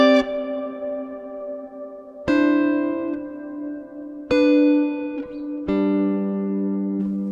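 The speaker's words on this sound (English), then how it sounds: "A much darker reverb." Four sustained guitar chords, each struck sharply and left ringing into a dark, smooth plate reverb tail with muted highs, played through a Line 6 Helix modeler, played alone.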